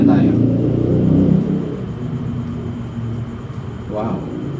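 A car passes nearby as a loud, low rumble that swells in the opening second and a half, then eases into a steady hum under talk, with a brief rise near the end.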